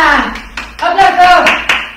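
Short bursts of hand clapping during a children's football-skills exercise routine, a few sharp claps spread over two seconds amid lively, close voices.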